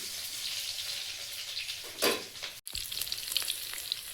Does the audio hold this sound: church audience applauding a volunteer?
no